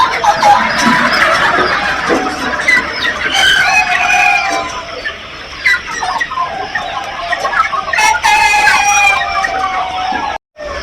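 Free-range chickens on a large farm in Pakistan, a dense flock clucking and squawking nonstop close by, with occasional rooster crows in a busy, continuous chorus.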